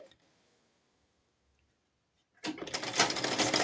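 A domestic sewing machine runs fast, stitching down corset lining fabric; after about two seconds of near silence it starts abruptly, and a loud, steady, buzzing whir fills the rest of the clip, close to the microphone.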